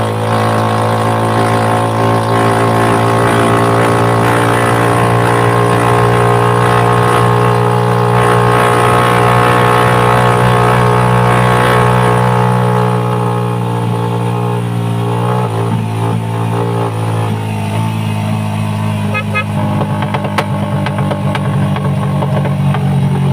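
A loud, steady motorcycle engine drones up close for the whole stretch, with a low throbbing idle that shifts slightly in pitch midway.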